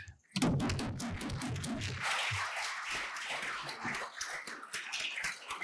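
Round of applause for women standing up at a labor union convention, a crowd's clapping that starts abruptly and continues in a dense, fairly distant patter with irregular louder claps.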